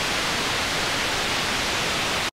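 A procedural waterfall built in Wwise with only a low-pass filter, heard as a steady, dense roar of rushing water that holds evenly throughout and then cuts off abruptly.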